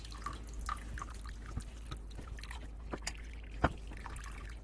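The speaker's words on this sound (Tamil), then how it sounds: "இப்போ இந்த மஸ்லின் கிளாத் அப்படியே எடுத்து நல்லா ஸ்குவீஸ் பண்ணி வாட்டர் இல்லாமல் ஸ்குவீஸ் பண்ணி இந்த பன்னீர் எடுத்துக்கலாம்" Water drips and trickles from freshly made paneer as it is squeezed in a muslin cloth, faint scattered drops and soft splashes over a quiet background.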